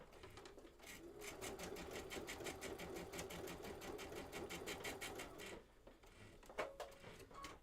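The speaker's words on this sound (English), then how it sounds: "So we're just going to sew 1/4 inch." A sewing machine stitches a quarter-inch seam on a quilted garden table runner, running steadily for several seconds with a rapid rhythmic whir, then stopping, followed by a few small handling clicks.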